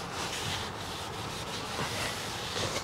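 Hand sanding car paint, wearing through a white layer: a continuous close, dry rasping rub with steady back-and-forth strokes and no voices.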